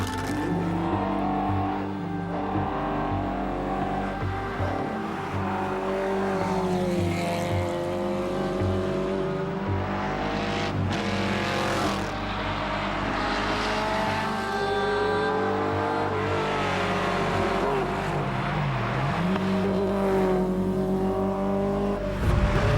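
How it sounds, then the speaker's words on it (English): A Ferrari race car in the GHI class of the 2004 Tour Auto is driving fast on a rally special stage, its engine a sustained loud roar that rises and falls in pitch through repeated shifts and acceleration. "the Ferrari of Gothenburg and Bornhauser is very fast with an average speed of 150 kilometers an hour"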